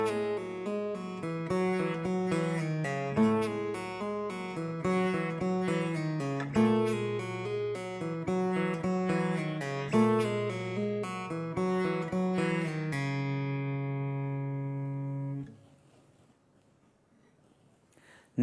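Electric guitar playing measures of a riff: a fast, continuous run of picked notes and chords at a driving rhythm, close and alone, ending on a held chord that rings out before cutting to near silence.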